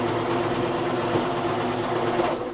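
A sewing machine stitching quilt pieces runs in a continuous close mechanical whir, steady and even throughout, with a slight drop at the very end.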